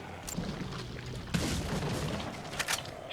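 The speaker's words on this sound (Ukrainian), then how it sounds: "ось цього ще можна теж з пістолету кончити" Pistol shots fired in the Resident Evil 4 video game, sounding as a few sharp, booming cracks spread over about three seconds over a steady, noisy game background.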